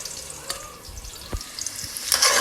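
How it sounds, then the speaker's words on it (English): Red onions sizzling in hot oil in a pot, the start of jollof rice, with crackling frying noise, a few soft clinks and stirring scrapes, close and fairly quiet, building a little louder near the end. "you just cook up the onions as much as possible."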